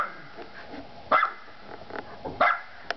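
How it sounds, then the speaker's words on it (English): A small Welsh corgi barks a few times in short, sharp bursts in the snow, spaced about a second apart, fairly close with quiet pauses between. "Oh, she's barking."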